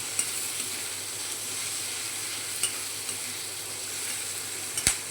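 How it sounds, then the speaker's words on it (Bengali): Chopped green chilies frying in a pan for paneer chatpati, a soft continuous sizzle with light stirring and a few faint clinks of a utensil. "দিয়ে ভালো করে ফ্রাই করে নেব।"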